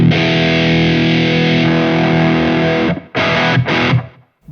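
An overdriven electric guitar plays through a Wampler Tumnus pedal with a cocked-wah, mid-boosted tone. A dense, sustained chord rings loudly, then two short choppy strums follow and the sound cuts to silence.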